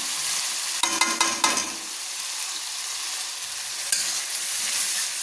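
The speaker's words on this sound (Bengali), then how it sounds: "দিয়ে ভালো করে মশলাটাকে কষিয়ে নিচ্ছি" Ginger and spice paste fries in a pan for chicken darbari, a loud constant sizzle with a few sharp spatula scrapes and knocks near the start and another clank later.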